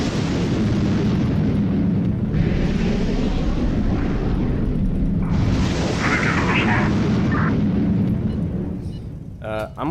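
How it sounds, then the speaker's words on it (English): Dense, roaring explosions and booming blasts from missile strikes in the HighFleet war game fill the whole stretch, loud and sustained with rumbling bursts, before the roar fades near the end. "I'm just going to send all of these missiles at it."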